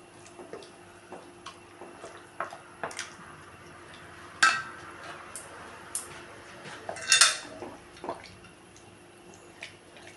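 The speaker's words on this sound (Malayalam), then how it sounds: "നല്ലോണം ഇളക്കി യോജിപ്പിക്കണം." A spoon stirs wheat payasam in a pot, mixing jaggery into cooked broken wheat. It makes soft, scattered clinks and scrapes against the metal, with a brighter knock near the middle and another toward the end. The clip is quiet and has no talking.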